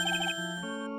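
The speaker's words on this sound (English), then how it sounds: "There's a phone, a ringtone I don't know." A phone ringtone in the Phoenix Wright: Ace Attorney video game: a short electronic melody of bright repeated beeps followed by sustained tones, clear and alone for about a second.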